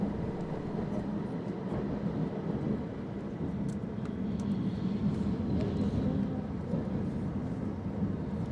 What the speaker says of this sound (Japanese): 列車は千貫トンネルを抜けると志度内信号場を過ぎ、しばらく渓谷沿いを走ります。